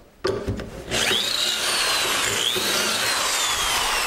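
A power drill bores into wood, starting with a few short bursts and then running steadily and loudly, with a rising whine as the bit cuts.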